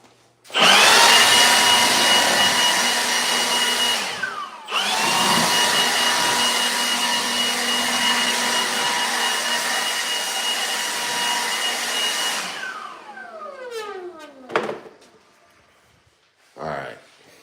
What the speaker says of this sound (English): I love cleaning with this leaf blower.